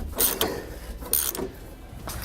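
A ratchet tightens bolts on the plate of a Roadmaster rear anti-sway bar on a 2017 Ford F-53, giving two short clicking bursts of ratcheting close by with no talking.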